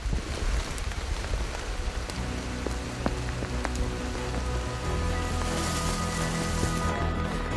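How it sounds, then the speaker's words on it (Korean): Steady rain falls on a mountain slope, patters on surfaces, and drips constantly, with scattered louder drops and faint tonal hums partway through. "비가 좀처럼 잦아들지 않는데요."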